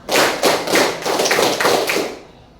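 A class of students at SMAN 1 Muara Pinang claps together in a counted rhythm game, producing roughly seven sharp, evenly spaced group claps up close before the sound tails off into silence.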